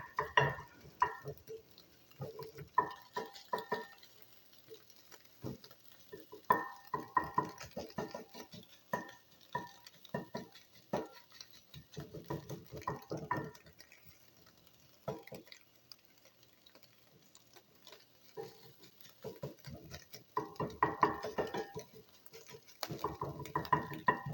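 Eggs stirred around in a pan with a utensil make a run of small irregular taps and scrapes, close and fairly quiet, arriving in clustered bursts with brief lulls between them.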